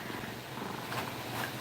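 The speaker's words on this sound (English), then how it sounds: "He's just purring away." A large pet cat purrs steadily and continuously up close, a soft, even rumbling with no talking.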